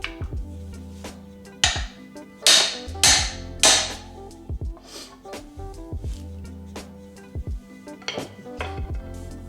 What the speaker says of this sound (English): we'll just use a little pry bar and a mallet and try and pop this